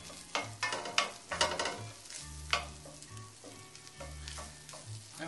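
Soy-based vegetarian sausage crumbles sizzle and fry in a pan while a utensil breaks them up, giving repeated scraping strokes over steady frying hiss, up close with no talk.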